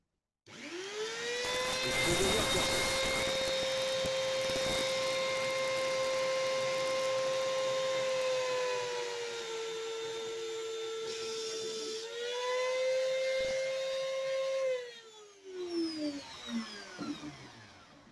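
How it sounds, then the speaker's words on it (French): A Dremel rotary tool drills a hole through a metal washer. Its high motor whine runs up and holds steady for about thirteen seconds, sagging slightly under load, then winds down. No one speaks. "Je vais prendre ma Dremel"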